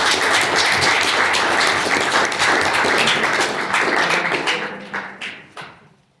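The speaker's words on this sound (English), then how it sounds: "Can we give them a round of applause?" A live audience applauds as a racing team is called up to present, dense continuous clapping that holds steady and then thins and fades out over the last couple of seconds.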